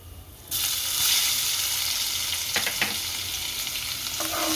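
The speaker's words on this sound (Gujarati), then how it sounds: "આપણું તેલ ગરમ થઈ ગયું છે આ જીરું નાખી દઈએ આ જીરું ઓલાઈ નાખશું સારું પછી લસણ નાખી દઈએ" Cumin seeds and garlic hit hot oil and burst into a loud, steady sizzle, with a few brief stirring scrapes as the frying continues up close.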